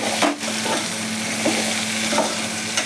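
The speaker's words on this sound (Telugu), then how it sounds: "అల్లం వెల్లుల్లి పేస్ట్ కొంచెం మిక్స్ చేసుకుందాం" Ginger garlic paste is stirred into crispy potatoes frying in a pan, a steady close sizzle broken by a few scraping stirs of a utensil.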